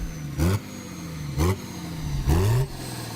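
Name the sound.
naturally aspirated diesel car engine revving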